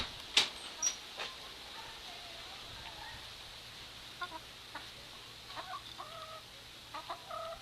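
Backyard chickens cluck softly while pecking at treats, with scattered short clucks and chirpy calls at moderate distance over a quiet outdoor background.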